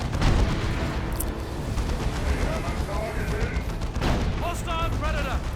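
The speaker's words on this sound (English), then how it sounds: "That's the smoke shell" A smoke shell fires in a Dawn of War 2 Elite Mod 1v1 battle, a dull booming discharge buried in dense, continuous battlefield rumble and gunfire, with a commentator's voice talking over the din throughout.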